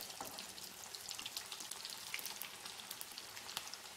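Mustard seeds, cumin and garlic sizzling in hot oil for a wheat-flour upma, a faint, steady frying crackle with scattered tiny pops, heard up close and without voices.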